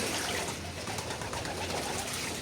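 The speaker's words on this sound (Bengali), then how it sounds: "অন্য কবুতরও গোসল করার জন্য এসে দাঁড়ায় আছে।" Racing pigeons coo softly and repeatedly at bath time, close by, a low throaty murmur alone against faint background water.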